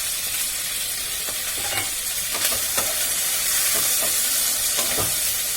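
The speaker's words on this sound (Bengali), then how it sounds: "এবার একটু কষাতে থাকি" Ginger and tomato sauté in hot oil for a spicy chicken bhuna masala. A steady, close sizzling hiss carries through, broken by occasional scrapes of stirring.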